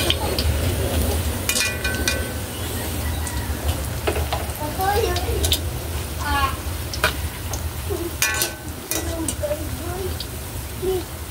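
Saba banana slices frying in hot oil for maruya, a continuous crackling sizzle with scattered pops and clinks under intermittent talk.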